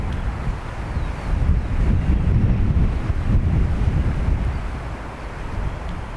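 Crosswind gusting at Dublin Airport, about 20 knots, roaring steadily as heavy, close wind buffeting against the microphone, rumbling and continuous throughout with no talk.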